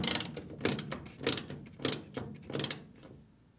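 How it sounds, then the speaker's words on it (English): Wrench tightening bolts on a Samsung washer drain pump bracket, with about six close, ratcheting, mechanical bursts that come in an uneven rhythm and fade toward the end. "start the thread by hand before tightening down with a wrench"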